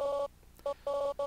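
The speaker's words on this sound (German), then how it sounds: "Telefon!" A telephone rings in the video game Undertale, sounding as clean, bright electronic trill bursts in quick succession, separated by short silent gaps, fairly quiet and alone.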